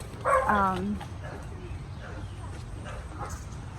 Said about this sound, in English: the dogs keep barking with the door open